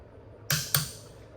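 Torque wrench clicking as it reaches setting on bolts of a John Deere 3025 compact tractor: two sharp close clicks in quick succession, alone.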